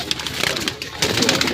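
Pet pigeons brought for sale cooing close by in soft, repeated throaty calls, with a voice talking over them.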